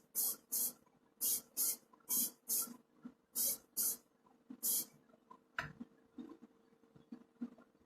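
Spray primer is applied from a can to a Corgi Toys Chevrolet kennel club van model. It comes in about ten short, close hissing bursts with an even rhythm, followed by quieter handling noises and light rustling.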